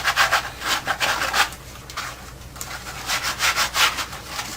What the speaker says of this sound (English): So we'll sand it down until it's nice and smooth.